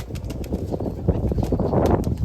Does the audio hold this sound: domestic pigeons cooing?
yes